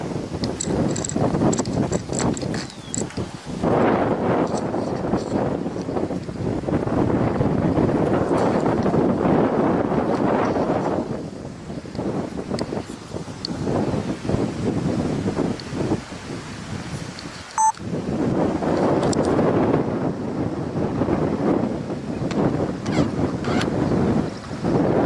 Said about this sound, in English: This wind is going to be annoying.